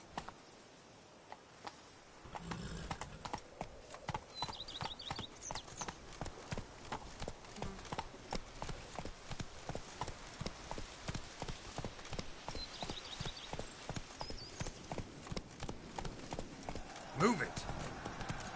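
A horse gallops in The Witcher 3: Blood and Wine video game, with steady, rapid hoofbeats pounding throughout at a consistent rhythm and a brief louder accent near the end.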